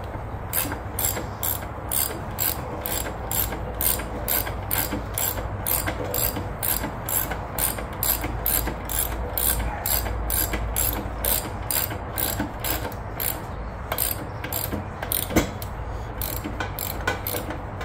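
A ratchet strap cranks in even, rapid clicks while tensioning to lift a 2014 Harley Davidson Ultra Limited, the sharp pawl clicks repeating steadily and close up for the whole stretch, with a brief pause near the end.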